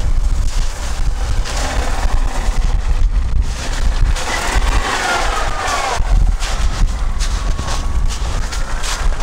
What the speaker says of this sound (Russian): Ветер еще такой сильный.